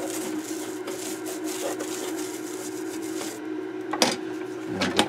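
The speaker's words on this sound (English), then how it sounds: "take my toothbrush here. We're trying to get some of this loosened up a little bit" A toothbrush scrubs a dirty circuit board inside a Kenwood GE-622 during repair, giving a steady close bristly rasp with faint rhythmic strokes and a couple of small knocks near the end, with no speech.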